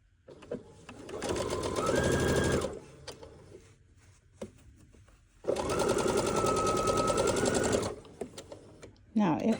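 A domestic sewing machine stitches along a fabric edge in two sustained runs of steady, rapid motor whir, separated by a brief pause, close and loud.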